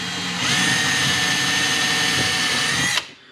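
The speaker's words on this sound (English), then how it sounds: "I'm kind of drilling a pilot hole through the particle board" A power drill whines at a steady high pitch while boring a pilot hole through particle board on a workbench, loud and close, then cuts off abruptly near the end.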